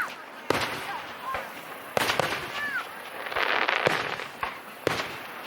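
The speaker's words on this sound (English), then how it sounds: "Best fireworks I've ever seen." Repeated sharp bangs and crackles of July 4th fireworks over a Midwest farm in West Mansfield, Ohio, at irregular intervals, with whistling rockets and sizzling bursts in between, loud and fairly close.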